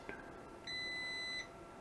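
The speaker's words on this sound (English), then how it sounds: "you hear that beep? That's continuity." A multimeter continuity tester on a Game Boy Color circuit board gives one clean, steady electronic beep of about three quarters of a second, preceded by a tiny click, against quiet room hiss.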